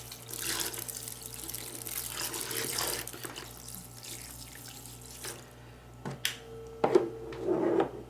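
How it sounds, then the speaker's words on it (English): Water runs from a 2.5-gallon bedside shower bag into a basin during an in-bed hair wash, a steady close flow that tapers off, leaving a few brief splashes and trickles near the end. "So you get plenty of pressure out of this bedside shower bag here."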